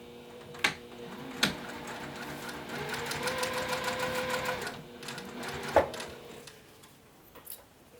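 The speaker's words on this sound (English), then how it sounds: "I'm going to baste 1/8 of an inch, back stitching though both times." Sewing machine basting an eighth-inch seam with backstitching on a zip coin pouch; a few sharp clicks, then a steady run of rapid ticking stitches for a couple of seconds, ending with more isolated clicks, close and moderately quiet.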